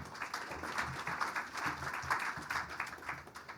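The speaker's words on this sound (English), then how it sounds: "Please give Aditya a big round of applause." Audience applause for a panelist at a 2015 education technology forum, faint and distant, a light patter of scattered clapping sustained for several seconds.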